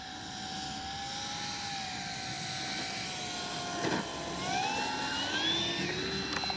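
RC P-51D warbird model plane with a 1600 mm wingspan coming in for a full-flap landing at a flightline, a steady high engine whine whose pitch dips and swells as it passes, heard from a moderate distance.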